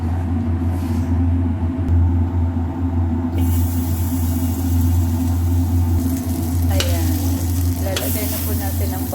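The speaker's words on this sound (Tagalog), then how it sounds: "Ipapainit na po natin ang kawali natin. Tapos, ilalagay natin ang butter." Butter sizzles loudly in a heated frying pan while cooking spicy crabs, a dense continuous hiss with occasional stirring scrapes and a low background hum, close and constant throughout.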